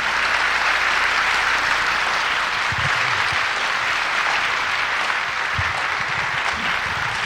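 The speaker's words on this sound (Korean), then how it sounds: "우리 목사님 올라오실 때 박수로 우리 크게 환영합시다" A church congregation at a revival meeting applauds steadily to welcome a pastor to the stage, a dense, continuous wash of clapping that stays even throughout.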